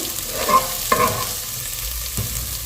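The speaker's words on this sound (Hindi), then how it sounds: "ज़ीरा है, मेथी दाना, कड़ी पत्ता और दालचीनी। इन सारी चीज़ों को डाल के अच्छे से मिक्स करेंगे।" Mustard seeds, cumin, fenugreek, curry leaves and cinnamon stirred in hot oil for a Punjabi kadhi pakora, a busy sizzle and crackle with a few scraping strokes of a spoon, near and unaccompanied by speech.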